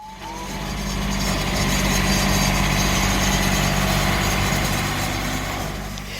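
A big truck with a big trailer runs at idle nearby, a steady low rumbling drone holding even for several seconds, loud and alone with no talk.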